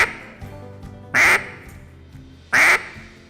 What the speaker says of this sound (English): she's got a quack that when she's looking for a boyfriend, she's got a little bit longer, a little bit louder, a little bit more excited type quack